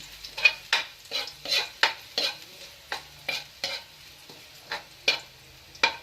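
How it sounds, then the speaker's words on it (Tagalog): Garlic sautéing in a pan while fried rice is being made, with repeated scraping stir strokes in an irregular rhythm over a steady soft sizzle, close up and with no talking. "Isayin muna natin yung bawang."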